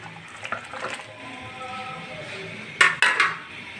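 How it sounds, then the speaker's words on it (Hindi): Chicken feet dropped into a pot of water on the stove for broth, heard as soft splashes and metallic clinks against the pot, with two sharper sploshes near the end; no talking. "पानी मैंने बॉयल होने के लिए रख दिया था, अब इसके अंदर ही हम पंजे शामिल कर देंगे।"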